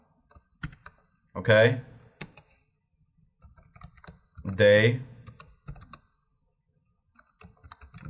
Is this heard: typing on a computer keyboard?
yes